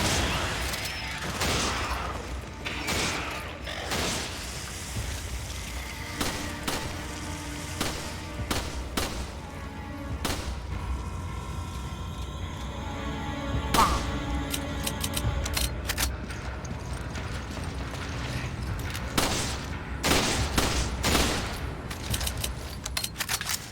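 Sniper rifle shots and other gunfire in the video game Resident Evil 5, heard as sharp, scattered reports over a busy game soundscape, with louder bursts around the middle and toward the end.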